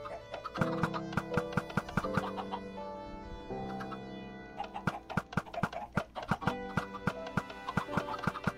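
Chickens in the Minecraft video game, a large flock of about 27 birds, cluck in scattered short bursts over steady game music, the clucks growing denser and more rhythmic toward the end.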